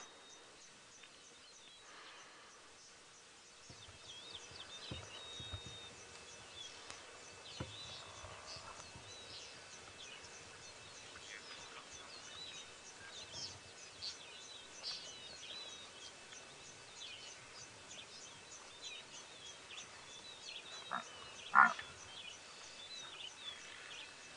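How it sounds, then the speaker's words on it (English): Small birds chirp and twitter faintly in the distance across a quiet early-morning safari scene, with occasional soft rustles and one brief louder call near the end. "the birds are all chirping too"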